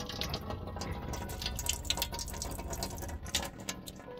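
Tap water runs in a Peugeot Symbol Auto Sleeper camper van, a faint steady splash with small drips and patters, no voices over it.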